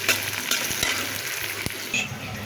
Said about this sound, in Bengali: এখন আমি শুটকিটা এটার সাথে ভেজে নেবো খুব সুন্দর করে